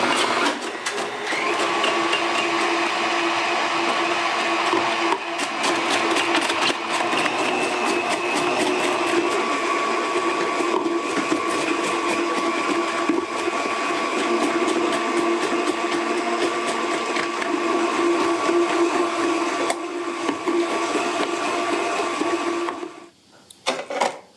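A food processor fitted with a slicing disc runs steadily, cutting vegetables for coleslaw, its loud motor whir holding constant with a busy clatter of pieces before winding down at the end.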